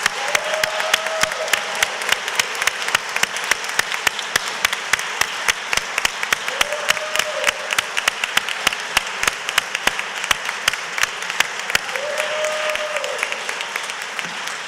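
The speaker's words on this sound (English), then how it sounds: "Let's give them a round of applause." A crowd of attendees gives sustained applause for the Youth Congress at a Cleveland City Council meeting, a steady dense patter of many hands clapping throughout with no talking.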